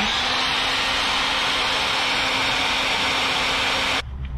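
A heat gun or hair-dryer-style blower heat sets airbrushed white paint on the belly of a fishing lure, giving a loud, steady whooshing roar with a faint hum that cuts off abruptly near the end.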